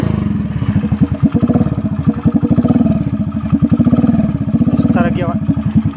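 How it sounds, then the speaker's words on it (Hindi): A motorcycle engine idles up close and then revs unevenly, with a loud, rapid exhaust pulse from a Yamaha RX 135 silencer fitted on a modified Hero Splendor. "बाइक के साइलेंसर की आवाज़ अभी आपको स्टार्ट करके सुना देता हूँ"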